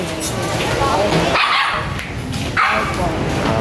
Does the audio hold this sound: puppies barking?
yes